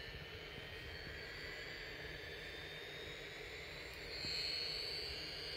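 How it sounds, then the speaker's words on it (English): A small toy Southwest Airlines airplane plays a jet take-off sound, a steady hiss and whine that swells near the end, faint and heard alone. "it's Southwest Airlines. It's a little airplane. It sounds like it's taking off."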